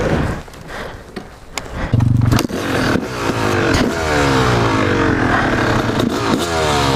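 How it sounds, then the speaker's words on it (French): A Yamaha YZ 250 two-stroke enduro bike fires up after a kick start, its engine crackling and then revving hard in rising and falling ringing sweeps, loud and close, with sharp blips throughout. "Ah, déjà le son du 2 temps, ça fait plaisir à entendre."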